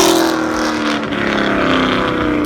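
A BMW M3's naturally aspirated flat-plane crank V8 is held at high revs, giving a loud, sustained, rising engine howl close by with a steady harmonic buzz and no voices.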